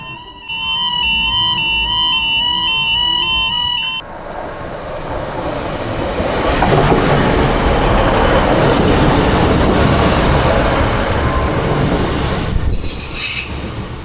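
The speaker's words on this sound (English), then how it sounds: "while the train came, because the lights were going and the noise was going on all the time" A train rumbles close by on Redcar seafront, England, with sustained, high metallic wheel squeals over steady rail noise, after a few seconds of an electronic chime.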